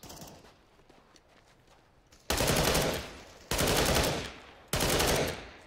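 Rifle fire from the Counter-Strike: Global Offensive video game comes in three loud, sustained bursts of rapid shots, each ending abruptly after about a second, over quieter background game noise.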